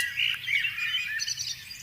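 A crow calling: harsh, repeated raspy caws with squawking, fairly close and alone, with no voices.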